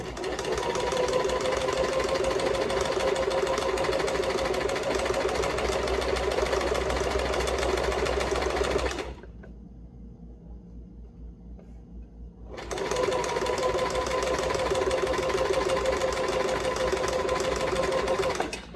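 A sewing machine runs in a steady, rapid mechanical whir, stops for a few seconds of near quiet, then starts stitching again at the same pace.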